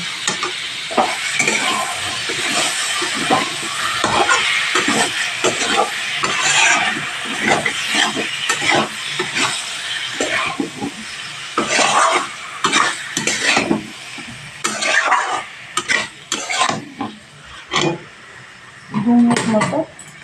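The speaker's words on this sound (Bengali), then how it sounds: "এখন আমি আলু পটলটা দিয়ে দেবো দিয়ে ভালোভাবে আরও দু মিনিট মতো কষিয়ে নেব" Potatoes and pointed gourd (potol) stir-fried in spiced masala in a pan for a potol chingri curry, with repeated scraping and clinking of a spatula over a steady close sizzle.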